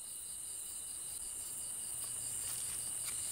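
Cricket chirping at night, a steady high insect trill that carries on without a break, fairly near and alone, with no talk.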